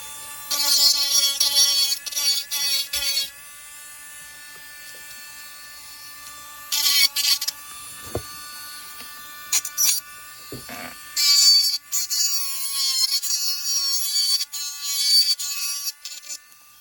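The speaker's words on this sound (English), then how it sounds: "I'll show you in the beginning part of it first to trim with the clipper, the edges first" Handheld rotary clipper trimming the edges of a clear plastic Essix dental retainer, a high buzzing whine in several bursts of one to three seconds separated by quiet gaps, close and fairly loud.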